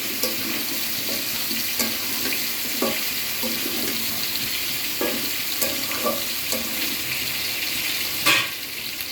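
A pot of thin fish curry with green chilies simmers with a steady bubbling sizzle while a spoon scrapes and stirs it in repeated light knocks, close and without talk.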